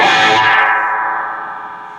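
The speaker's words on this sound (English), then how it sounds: "Reverb's all the way at 10, just for one note." A single distorted electric guitar note on an EVH Iconic amp with reverb turned all the way to 10, loud and sustained, its bright attack fading into a long, slowly decaying wash.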